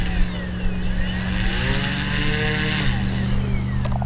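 The electric motor of an Avios Grand Tundra V2 RC plane whines steadily and loudly, its pitch sweeping up and down as the throttle changes, with a brief rattling tick near the end.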